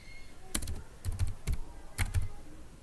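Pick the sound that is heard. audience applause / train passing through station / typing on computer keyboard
typing on computer keyboard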